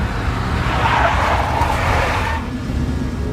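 A big black Mercedes drives hard and skids in Max Payne Remastered, with a loud engine roar and a screeching tire slide that fades after a few seconds.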